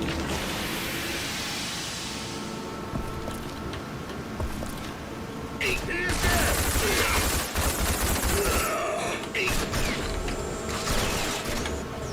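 Video game gunfire in rapid bursts and fusillades, loud and close, mixed with mechanical clicks and creaks that continue throughout.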